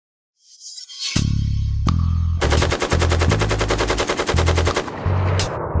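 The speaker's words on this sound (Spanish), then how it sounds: "Nombre completo, rifle automático M416. Utiliza un principio automático operado por gas, con un cerrojo rotatorio. Puede disparar en tiros únicos o ráfagas." An M416 automatic rifle fires a couple of single loud shots, then unleashes long, rapid automatic bursts, sharp and close, with brief pauses between strings of rounds.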